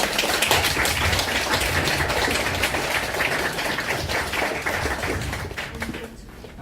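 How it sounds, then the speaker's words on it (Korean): Audience applause at a book concert welcoming a pansori singer and her accompanist, a dense, steady round of clapping that carries on throughout and thins slightly near the end. "큰 박수로 맞이해주시죠"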